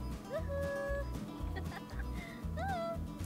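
Chickens clucking in a cottage-living farming video game, a few short clucks and rising calls over a looping, rhythmic game soundtrack.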